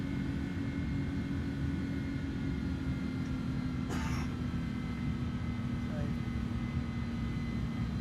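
A flight simulator airplane engine drones steadily as the throttle is pushed, giving a constant low hum across the whole stretch with one brief crackle partway through.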